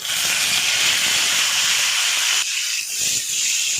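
Boiled potatoes are dropped into tomatoes frying in oil, giving a loud, close, steady hiss of sizzling that dips briefly and then carries on.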